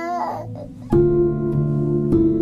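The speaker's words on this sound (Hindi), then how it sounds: "तुम्हें बच्ची के रोने की आवाज नहीं आ रही? इतनी देर से रो रही है।" A baby girl wails in a domestic drama, the cry rising into a loud, sustained harmonic wail that holds steady for over a second with a brief dip before resuming.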